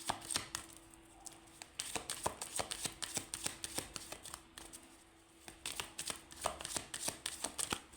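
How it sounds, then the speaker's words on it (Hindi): Tarot cards shuffled by hand in quick repeated riffles, close and fairly quiet, with crisp papery snaps in bursts and a brief pause midway. "बस एक शफल,"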